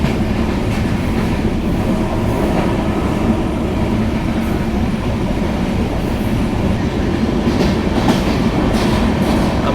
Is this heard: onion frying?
no